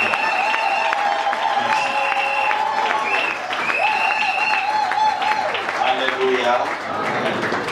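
A church congregation at an anniversary service applauds to acclaim the Lord, steady clapping under a loud sung or chanted melody with a voice speaking briefly over it.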